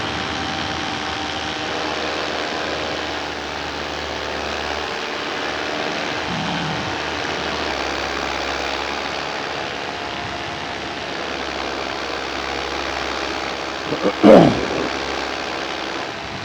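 A four-stroke paramotor engine cruising at about 6,000 RPM in flight under a 35 meter wing, a continuous buzzing propeller drone with wind rush, with a brief loud gust or bump near the end.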